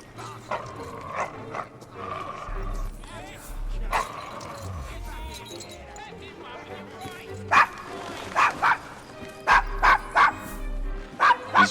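Dog barking in the Devil's Acre, a rough Victorian London district in Assassin's Creed Syndicate, with several sharp, loud barks arriving in bursts toward the end, heard over a background of game ambience and conversation.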